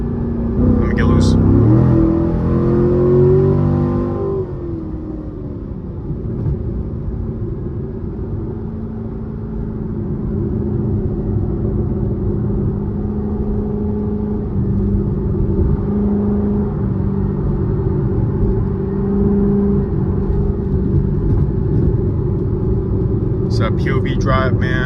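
A loud Chevrolet C7 Corvette engine rumbles steadily from inside the car on a late-night drive, holding a deep drone throughout with a brief change in tone early on, while the driver talks over it.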